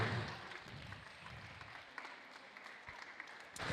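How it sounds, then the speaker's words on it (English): Steady applause from a crowd at a virtual racing prize-giving, a continuous wash of clapping that runs throughout with a slight swell at the end; no talking. "Give him a clap, guys."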